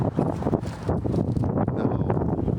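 Gusty wind buffets the microphone outdoors, a steady broadband rumble with rustling bursts that rises and falls throughout, loud and close, with no clear voices.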